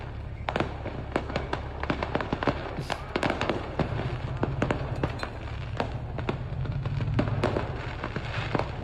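Fireworks going off from a burning fireworks truck, a rapid, continuous barrage of sharp cracks and bangs at a steady, dense rhythm, loud and fairly close.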